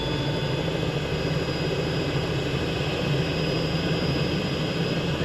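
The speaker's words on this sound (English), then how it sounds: "the helicopter we're flying today is the Robinson R66 Turbine" Robinson R66 Turbine helicopter in flight with the Mariner configuration, flying at night over central London: a constant, loud turbine whine and rotor drone heard from inside the cabin, steady throughout with no talking.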